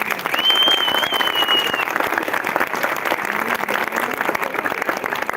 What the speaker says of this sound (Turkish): İki çiftimiz için kocaman bir alkış rica ediyorum.